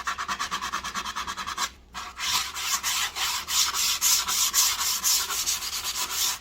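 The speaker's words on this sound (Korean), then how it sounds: "이쪽 끝 모서리도 사포질을 해주고" Rhythmic rasping of sandpaper rubbed back and forth on the edges of a solid-wood book stand in steady strokes, with a brief pause before the scrubbing resumes.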